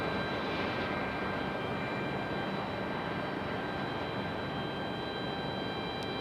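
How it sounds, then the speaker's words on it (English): United Boeing 737 airliner taxiing toward the runway at Raleigh-Durham International Airport, a steady broad engine roar with a faint high whine, distant and unchanging throughout. "Got a United 737 making their way out to the runway here"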